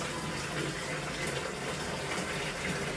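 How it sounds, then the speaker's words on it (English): Water pours from a bucket into the tank of a steam cleaning machine used for mattresses, a steady rushing gush that continues evenly from start to finish without any voices. "you can just pour it right in with the bucket"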